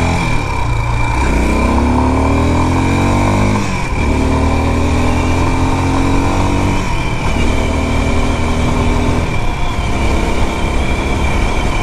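A motorcycle with a sidecar rides along loud and close, its engine droning steadily and rising in pitch through several gear changes, with no talk over it.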